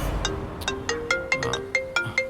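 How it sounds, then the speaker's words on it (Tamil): Mobile phone ringtone for an incoming call, a clear melodic sequence of bright repeated tones plucked in rhythm, fairly loud and alone. "லோன் விஷயமா பேங்க்ல இருந்து ஃபோன் பண்றாங்களே."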